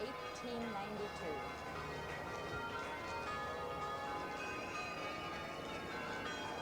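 The 1892 Ringling Brothers bell wagon, carrying nine large bells weighing about 4,300 pounds in all, rings as it moves in a circus parade. Bell strokes come from amid a dense, steady wash of crowd and street noise.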